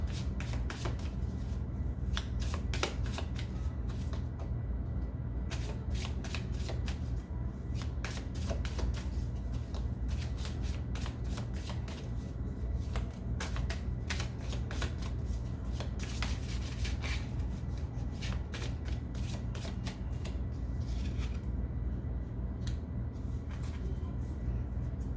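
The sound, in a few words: shuffling cards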